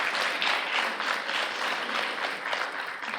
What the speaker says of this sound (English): let's give a round of applause for Ida and Ida